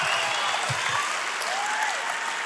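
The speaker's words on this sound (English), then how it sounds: "give Boone a big round of applause right now" Steady applause from a church congregation fills the space, continuous and fairly loud throughout, with a few brief low thumps near the start.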